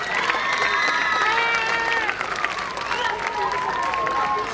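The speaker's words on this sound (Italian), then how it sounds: "Facciamo un altro bel applauso per il gruppo Junior First Need." Audience at an outdoor folklore festival in Lavello applauds a performing group, a dense steady wash of clapping with cheers and shouting voices mixed in, loud and continuous throughout.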